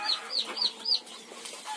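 Chickens in a poultry farm cluck in short, repeated high calls, four quick bursts close by followed by softer murmuring from the flock.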